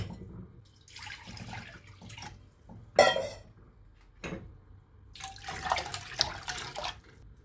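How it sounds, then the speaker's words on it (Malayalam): Water is poured into a pressure cooker holding barley in a home kitchen, with splashing and trickling bursts, a sharp clink, then a longer, louder pour toward the end. "കുറച്ച് നല്ല വെള്ളം കൂടി ഒഴിച്ചിട്ട് ഇതിലേക്ക് അങ്ങ് ഒഴിക്കാം."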